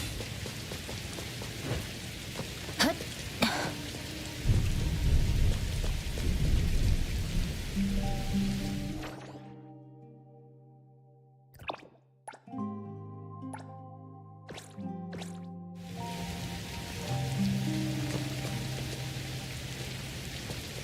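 Rain and thunder from the video game Neverness to Everness: steady rainfall with dripping, plus low rumbling, then a short stretch of game music before the rain returns.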